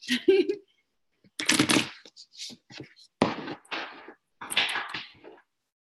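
Playing cards being shuffled indoors, with several bursts of riffling and snapping cards separated by short pauses, fairly close and loud, alongside a speaking voice between the shuffles.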